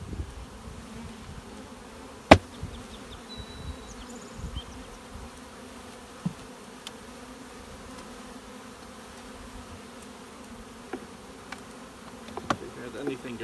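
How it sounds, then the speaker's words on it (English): A soft, steady drone of many bees hums around a hive, with a few sharp knocks and clicks breaking through now and then. "Two good populations of bees, which are actually separated by a frame of foundation here"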